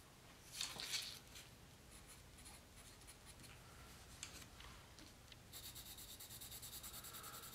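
A soft charcoal drawing pencil scratches across paper in close, abrasive strokes, louder bursts early on, then a steadier rasping rub toward the end, with no voices.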